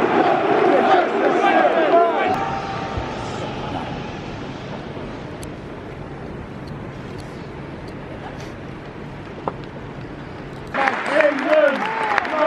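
Stadium crowd noise with scattered clapping, swelling into louder applause and cheering at the start and end, as Borussia Dortmund players applaud their fans at a match against Spurs.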